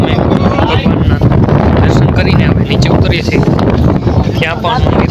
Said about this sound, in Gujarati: ફૂલે ફૂલ પવન છે